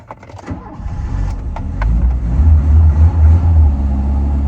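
A Volvo 345 Variomatic that has sat in a barn cranks with a few clicks and a grinding churn, then catches and settles into a louder, uneven running rumble, close by with no talk.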